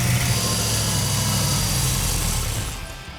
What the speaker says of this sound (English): this little engine had to be ran on the engine run stand